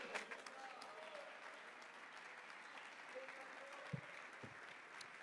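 A church congregation applauds during a Spanish-language worship service. The clapping is steady and fairly faint, with a voice speaking over it now and then.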